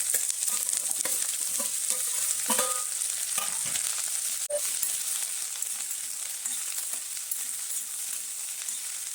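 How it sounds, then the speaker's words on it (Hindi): Okra fries with mustard seeds and chili in hot oil for a tadka, a dense continuous sizzle with faint crackles and occasional stirring scrapes, close and steady throughout. "बस राई और मिर्ची फिर भिंडी डाल के तड़का लगा लूँगी।"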